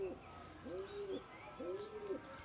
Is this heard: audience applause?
no